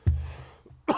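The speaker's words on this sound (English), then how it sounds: "Sorry about that coughing, guys." A person coughs twice: a sharp, close burst at the start, a brief lull, then a second rough cough at the end.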